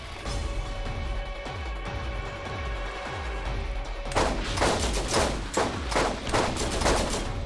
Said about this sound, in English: I'm shooting him in his butt a whole bunch.